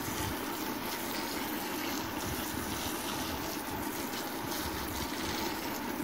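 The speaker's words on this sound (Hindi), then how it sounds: "पानी खूब अच्छे से दे दें ताकि पहली बार पूरे इसकी जो सॉइल है वो मॉइस्ट हो जाए" Water is poured steadily into the soil of a potted tricolor Rhoeo plant, giving a continuous close splashing, trickling wash with no pauses.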